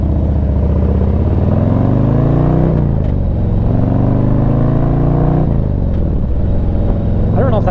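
Steady rumble of a 2024 Harley-Davidson Street Glide motorcycle, a partially water-cooled bike, idling and revving at a stoplight, with pitch sweeping up and down in two waves under continuous close engine noise.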